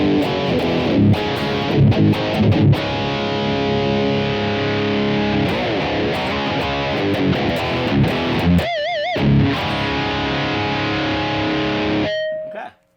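Distorted electric guitar played through a Blackstar ID:Core 20 V3 modeling amp, loud and continuous with chords and bends, a brief wavering vibrato passage near the end.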